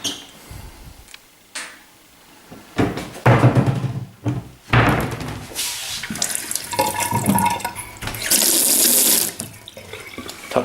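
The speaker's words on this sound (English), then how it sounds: "Taps are functional." Kitchen taps running, water gushing in bursts of varying strength with knocks and handling sounds between, close and fairly loud.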